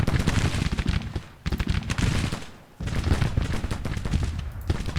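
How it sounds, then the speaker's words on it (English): Dense, continuous artillery and infantry fire from a Civil War battle in the Grand Tactician strategy game: rapid overlapping musket volleys and booming cannon, loud and sustained, easing briefly twice before resuming. "I guess from a mix of artillery and infantry fire"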